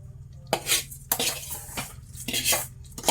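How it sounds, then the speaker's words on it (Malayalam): Crushed coconut is stirred into clam masala in a pan, with a spoon scraping and clinking against the metal in irregular strokes, close and fairly loud, without any talking. "നമ്മൾ തേങ്ങ ഉടച്ച് പൊടിച്ച് വെച്ചത് ഇട്ട് കൊടുക്കാം"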